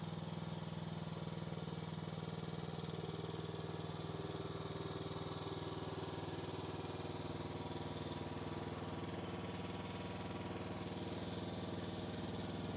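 A mini excavator's engine runs steadily while the cab swings around, a constant mid-pitched drone with no speech, holding an even level from start to finish.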